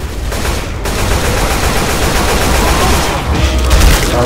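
Dense, loud gunfire in Left 4 Dead 2 during a survival round on the Helms Deep map, sustained rapid shots with brief dips, heard up close.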